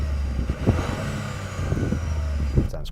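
A Toyota GR Yaris three-cylinder engine revving, heard from outside the car, a moderate, buzzy engine drone with a few brief throttle blips over ambient noise, no talk.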